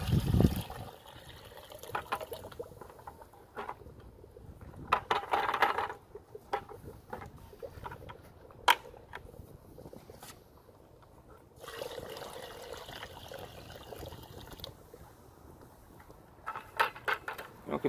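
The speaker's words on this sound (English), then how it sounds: "Pour that right on in" A liquid mix of earthworm castings and fish emulsion is poured into a bucket of biochar, giving a quiet splashing, trickling sound in a few bursts with soft clunks between.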